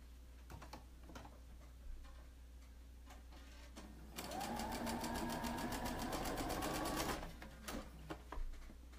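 A sewing machine hems a formal dress in one steady run of rapid, evenly ticking stitches lasting about three seconds, close and clear, framed by faint handling clicks before and after.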